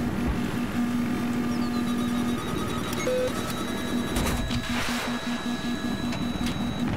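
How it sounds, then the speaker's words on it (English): A steady electronic warning tone pulses in regular beeps as an enemy helicopter tries to lock a missile onto a Little Bird in a battlefield video game, with engine drone and gunfire underneath. "That's probably the helicopter trying to lock on me."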